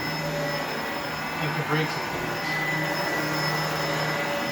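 A household vacuum cleaner runs steadily while a bedroom and hallway are vacuumed, a constant close whirring drone under a person speaking briefly.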